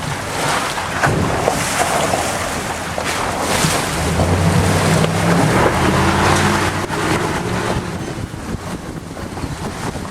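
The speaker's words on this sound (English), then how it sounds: "It's going to be a little bumpy coming through this creek," A ranch tour vehicle rumbles bumpily through a creek on a jungle tour at Kualoa Ranch in Oahu, with loud engine drone, splashing water and heavy wind buffeting that carry on throughout.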